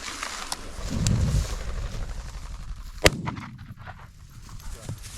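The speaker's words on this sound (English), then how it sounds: "Nice shooting. Almost hit me." A shotgun fires once while hunting birds in the Eastern Sierra, a sharp outdoor blast midway through with a faint echo, amid rustling and low wind noise.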